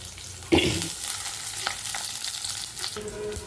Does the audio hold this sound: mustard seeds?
yes